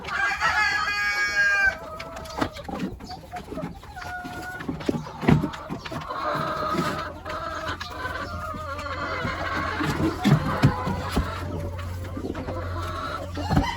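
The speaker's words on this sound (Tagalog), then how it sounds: "May parating na manok." Chickens cluck and squawk nearby in a busy run of calls, with a rooster crowing early on, over faint background noise.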